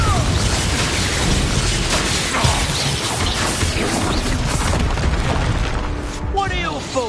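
Spell explosions from Hogwarts Legacy, a fantasy video game, sound as repeated booming blasts and crashes layered over constant battle noise, with a voice shouting spell names over the din.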